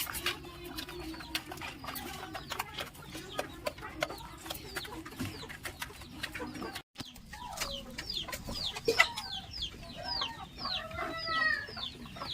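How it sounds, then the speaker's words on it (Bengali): Rooster and silkie hens on a poultry farm cluck and call in short repeated bursts, moderately close, with faint background voices and farmyard noise. "এখানে একটা মোরগ, দুটো মুরগি সিল্কি, এগুলো ডিম পাড়ছে, এগুলো বিক্রি হবে।"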